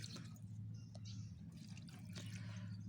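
Fertilizer solution of NPK 16-16 is poured over compost while rain falls, giving a steady, soft wash of liquid and drips over a constant low hum, with no voices.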